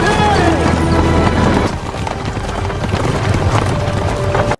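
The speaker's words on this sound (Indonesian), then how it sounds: "akan berkeliling menggunakan kereta kuda" Hooves of a horse-drawn carriage clip-clop in a steady, close, loud rhythm, running continuously beneath narration.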